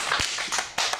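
A teen improv acting class gives a quick round of applause: a few scattered, sharp hand claps in a small room, fairly close, with no talking.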